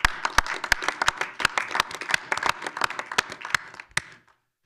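A small crowd applauds at a village board meeting, sparse individual claps forming a short, moderately loud burst that fades out near the end, with no talk over it.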